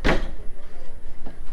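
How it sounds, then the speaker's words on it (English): A waterproof side door on a brand-new Pearl 72 motor yacht opens with a sharp, loud thud at the start, then a hollow rumble fades and a second, softer knock follows near the end. "So accessed through this waterproof side door"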